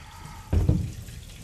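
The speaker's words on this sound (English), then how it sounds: "got some water running here" Water runs from a tap, rising in a brief splashy burst that swells and then settles into a lower steady flow, fairly close and alone.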